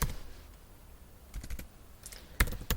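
Keys typed on a computer keyboard during a Python coding lesson, a few soft scattered taps early, then short bursts of quick clicks near the end, close by and fairly quiet.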